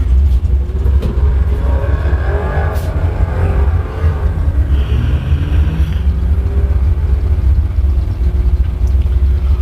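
A Corvette and another car launch side by side in a bracket drag race at Bradenton Motorsports Park, a loud, sustained engine roar and deep rumble that stays steady throughout.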